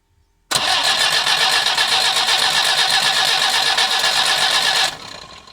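The engine of a 1985 Polski Fiat 125p (FSO 1500) cranks steadily for about four seconds during a compression test on cylinder four, with a rapid, even churning rhythm, starting and stopping abruptly, loud and close.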